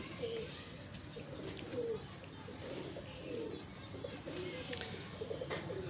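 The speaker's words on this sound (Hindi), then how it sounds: "तो ये जी आ गया जी कबूतर पानी पे, पानी पीने आया" King pigeons give soft, repeated coos at a water spot, fairly faint and spaced in a loose rhythm over low outdoor background noise.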